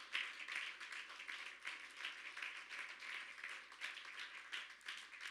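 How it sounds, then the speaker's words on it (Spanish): A church congregation claps during a Spanish-language worship service, a faint, distant wash of many hands sustained throughout without talk. "Denle ese aplauso al Señor."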